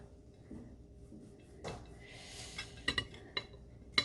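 A knife cuts through homemade vegan sausage on a plate, giving a few quiet scrapes and then sharp clinks of the blade against the dish, alone in a still room.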